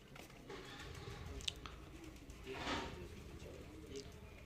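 High flyer pigeons coo softly in a loft, low murmuring calls repeating faintly, with a few sharp clicks and rustles nearby.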